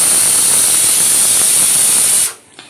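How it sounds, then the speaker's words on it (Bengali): Steam whistle from a pressure cooker on a home kitchen stove, a loud, steady high-pitched hissing jet that cuts off abruptly near the end, leaving a faint click. "তো তার কারণে আমি আবার বসিয়ে দিয়ে কয়েকটা সিটি দিচ্ছি।"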